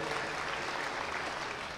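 Listeners at a Hindi poetry recital give a short, soft round of applause, a steady wash of scattered clapping that lasts under two seconds and stays fairly distant.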